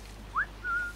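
A single short whistle from a character in Assassin's Creed 4 Black Flag: a quick upward swoop followed by a held level note, close and distinct over a faint steady hum.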